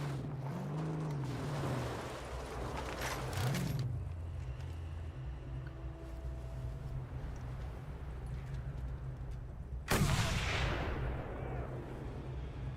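Sniper gunfire in a video game rings out as two sharp, sudden cracks, one midway and a louder one near the end, over a steady low engine-like drone.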